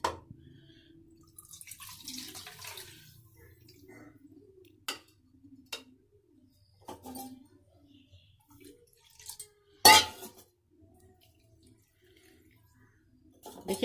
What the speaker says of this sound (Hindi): अब इसको हम एक और दफ़ा इसी तरह धोएंगे।